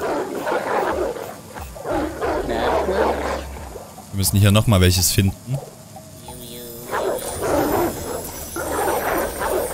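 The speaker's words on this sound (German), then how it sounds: "Da unten haben wir schon wieder einen Hund." A dog in the video game Oddworld Soulstorm barks in a short, loud burst of several yaps, midway between stretches of someone talking in German over game sounds.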